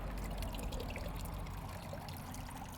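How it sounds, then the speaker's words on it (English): Water pours and trickles steadily as a plant is dunked in a bucket of water and lifted out, a close, soft splashing and dribbling that continues without pause. "we're going to dunk it in this bucket of water"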